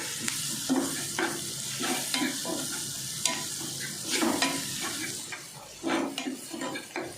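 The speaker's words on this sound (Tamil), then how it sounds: "சேர்த்து நல்லா ஃப்ரை பண்ணிக்கலாம்" Chili powder, turmeric and spices frying in a pan for an egg masala, a steady close sizzle broken by repeated scraping stirs of a spoon against the pan, with no voices.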